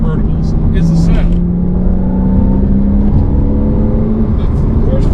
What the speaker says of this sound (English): one of the most harmonious sounding engines I've ever experienced